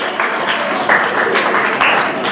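An audience at a prize distribution gives loud, dense applause that continues without a break for a couple of seconds. A few voices can be heard faintly underneath.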